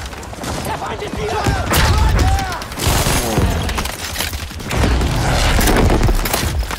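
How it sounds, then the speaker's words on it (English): Airstrike explosions rumble in Battlefield V, heavy booming blasts and rolling gunfire in several loud surges, with game voices mixed in. "Tactical airstrike inbound, mate."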